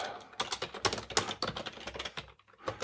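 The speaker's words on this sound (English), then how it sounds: "I'm going to type help." Keys clack on a computer keyboard as a short command is typed in a shell, a close, uneven run of quick taps with a brief pause near the end.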